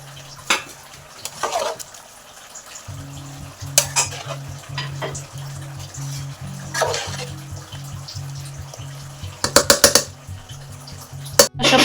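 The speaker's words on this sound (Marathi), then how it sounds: "पुदिना टाकून घेते इथं, जरा मिक्स करते" Spoon stirring mint leaves into chicken dum biryani in a pot, with scraping and clinking of utensil against metal in irregular bursts over a low steady hum, with a sharper flurry of clatter toward the end.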